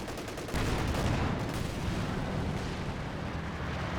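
An artillery barrage in the World War II strategy game Company of Heroes, heard as a dense, continuous rumble of overlapping booms and blasts that stays loud and unbroken throughout.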